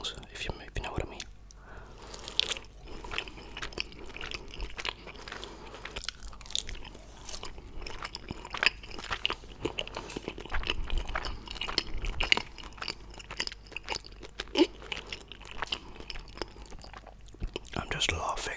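Mochi being bitten and chewed close to a microphone in an ASMR eating session, with soft, continuous, sticky chewing and small crunchy bites, quiet and intimate, alongside faint whispering.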